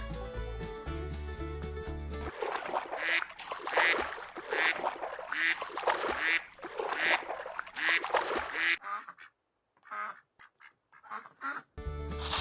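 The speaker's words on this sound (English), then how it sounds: "it's duck." A duck quacks in rapid, loud bursts, the calls repeating steadily, then breaking into a few sparser quacks after a short gap, close and clear without talking.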